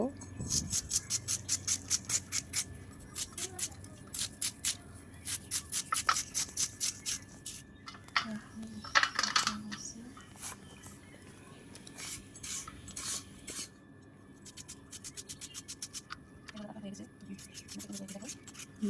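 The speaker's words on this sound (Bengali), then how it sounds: "এখন আমি একটা একটা করে কেটে নেব আলুগুলোকে কুচি কুচি করে নেব" A knife finely chops peeled potatoes on a board with quick, even taps in bursts, separated by short pauses and a faint voice in the background.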